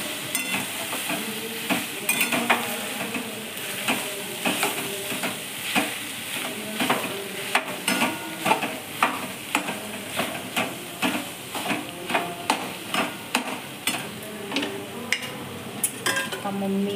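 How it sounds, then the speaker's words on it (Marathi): Minced meat (keema) stirred and fried in a pan, a steady sizzle broken by regular scraping stir strokes about every half second, close and fairly loud, with no talking. "पाच मिनिटात झाकण उघडून खिम्याला परतून द्यायचं."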